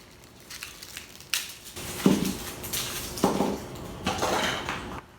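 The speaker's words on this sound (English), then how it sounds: "I do like to smash the garlic a bit because then we'll get extra flavor." Garlic cloves being smashed for a nettle soup, heard as a few sharp knocks and crunches on a kitchen surface, spaced about a second apart, with clattering in between and no talking.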